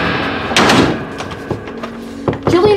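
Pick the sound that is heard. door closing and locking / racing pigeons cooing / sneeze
door closing and locking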